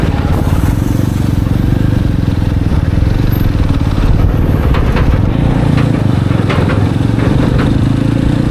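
A motorcycle engine drones steadily while riding on a road toward the hills near Yamunanagar, loud and close with constant low rumble and wind buffeting, with some intermittent clatter.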